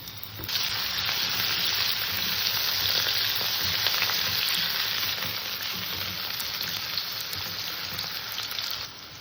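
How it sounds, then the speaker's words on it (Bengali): Potatoes frying in hot oil in a pan, a dense, even sizzle that starts abruptly and holds steady and close before cutting off near the end. "তেলটা গরম হয়েছে সর্বপ্রথমে আমি আলু কটাকে একটু ভেজে নেব"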